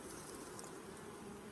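Honey bees hum in a dense, steady buzz close by while queen cells are harvested from the hive, the droning even and unbroken throughout.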